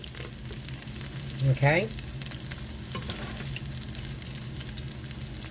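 Chicken patties fry in a pan with a steady, close crackling sizzle throughout, briefly broken near the middle by a short spoken word.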